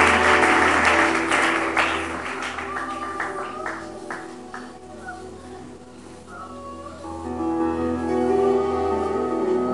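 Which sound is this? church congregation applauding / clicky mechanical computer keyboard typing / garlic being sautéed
church congregation applauding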